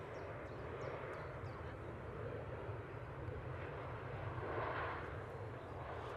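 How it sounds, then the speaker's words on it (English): An EasyJet airliner touches down at Manchester Airport, a steady broad roar of engines and rushing air rising slightly toward the end, heard from a distance without talk. "Nice touchdown there from the EasyJet."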